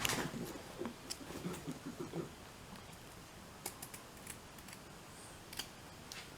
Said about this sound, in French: Alors on coupe à 2 mm du bord.